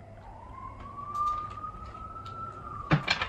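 A far-off emergency siren wails faintly in the background as one long, slowly rising tone, and a brief knock sounds near the end.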